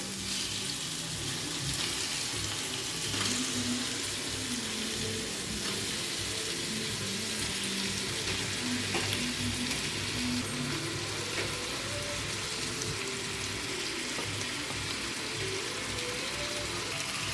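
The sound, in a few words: fish pieces frying with tomato pieces in pan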